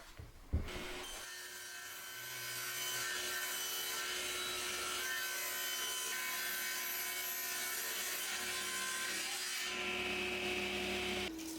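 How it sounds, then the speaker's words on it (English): A table saw runs through plywood, cut down to size for a kitchen notice board: a sharp clack, then a steady, close whirring rasp of the blade in wood that holds for about nine seconds before easing off, with no voices. "the first job is to get it cut down to size on the table saw"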